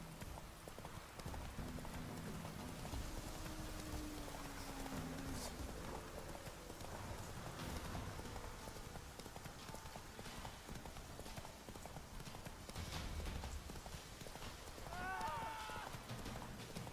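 Roach the horse galloping in The Witcher 3 as a continuous clip-clop of hoofbeats with a steady rhythm, close and moderately loud, with rain-like ambience and a few brief game sounds.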